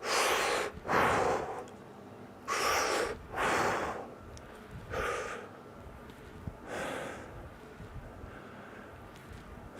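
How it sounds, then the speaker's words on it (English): Heavy breathing during squat exercise: about six loud, rhythmic breaths, each a forceful airy inhale or exhale separated by short quiet gaps, close to the mic with no talk. "breathe in, and breathe out on the way up"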